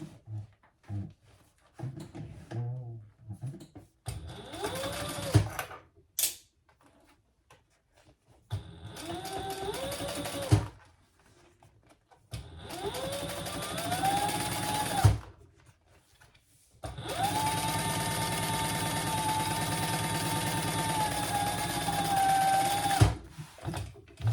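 A sewing machine top stitches a seam on a triple zipper crossbody bag in several bursts of whirring, steady runs separated by short pauses, the last run longest.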